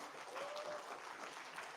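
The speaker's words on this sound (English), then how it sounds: "Can we clap for him?" An audience at a talk on AI agents gives a brief burst of clapping, faint and somewhat distant, with a dense even patter that lasts under two seconds.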